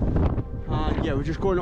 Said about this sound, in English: it's got a bit windy